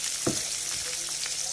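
Chopped bacon and onions frying in a hot pan, giving a steady, close sizzle with a few soft stirring knocks and no voices.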